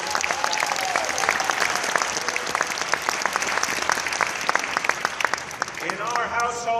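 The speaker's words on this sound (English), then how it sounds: "let's give them all a round of applause" Sustained applause from an inauguration audience honoring council members and state elected officials, dense rapid clapping with loud individual claps up front, running steadily throughout with voices mixed in beneath.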